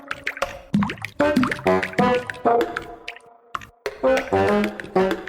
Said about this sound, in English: The second one, Hydromancer, was like water droplets.